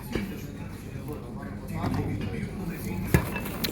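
Ceramic cookware and a pot, with a kettle and a baking dish nearby in a supermarket aisle, are handled and set down, giving soft knocks and a sharp clink near the end while someone talks.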